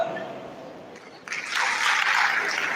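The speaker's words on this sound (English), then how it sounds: "Please do welcome with a warm applause Professor Pio Musa." Warm audience applause welcoming a professor at a medical induction ceremony for newly qualified doctors, swelling in sharply after a quiet moment and continuing as dense, bright clapping from a large hall crowd.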